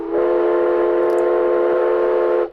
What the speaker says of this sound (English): obviously a train whistle